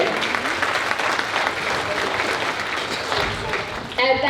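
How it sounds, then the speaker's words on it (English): At a 2024 convocation, graduates break into sustained, dense applause filling the hall, loud and even throughout before it cuts off abruptly at the end. "So I want you to give yourselves a round of applause"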